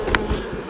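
Honey bees buzz during a hive inspection, a close, steady drone with a brief louder flick of a wing or movement partway through.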